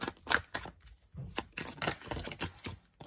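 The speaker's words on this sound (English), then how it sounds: "These cards are so hard for me to shuffle." A deck of tarot cards is shuffled by hand in short, irregular bursts of crisp riffling and slapping, close and fairly loud, with brief pauses between the bursts and no voices.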